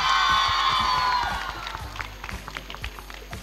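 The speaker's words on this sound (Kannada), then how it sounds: "ಜೋರಾದ ಚಪ್ಪಾಳೆ" An audience at a college campus event breaks into loud applause and cheering, with a shrill whoop at first that fades into scattered clapping and crowd noise.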